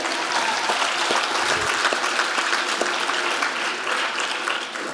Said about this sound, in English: Let's clap it up for Oliver